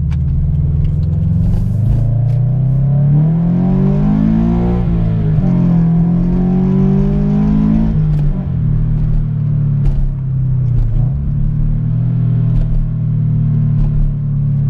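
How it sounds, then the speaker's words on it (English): A Subaru BRZ fitted with an aftermarket header pulls hard from first gear. Its loud, close engine note climbs steadily in pitch for several seconds, then drops back to a lower, steady rumble. "Alright, so roll into first gear and we'll rip it."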